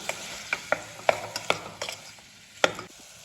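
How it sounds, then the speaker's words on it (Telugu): Vegetable pieces are mixed with salt, turmeric and chili powder, giving a series of sharp, close clinks and scrapes of a spoon against a vessel at an irregular pace. "ఉప్పు పసుపు కారం అంతా ముక్కలకి పట్టేలాగా కలుపుతున్నాం"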